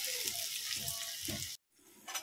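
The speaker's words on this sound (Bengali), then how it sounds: "তো পেঁয়াজ ভাজা হয়ে গেছে" Onions sizzle in a pan as home cooking for fish curry gets underway, a steady crackling hiss with a few stirring scrapes, then a brief pause before the frying resumes.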